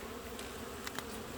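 Honeybees carrying pollen crawl over a healthy frame during a summer hive inspection, giving a steady, close buzzing drone with a couple of faint ticks.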